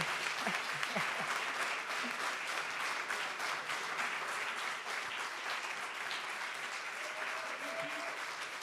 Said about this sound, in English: please fill the pause with applause